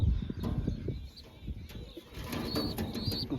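Pigeons cooing and fluttering close by in a loft among young birds, soft low coos and brief wing flaps at a moderate level, with no speech.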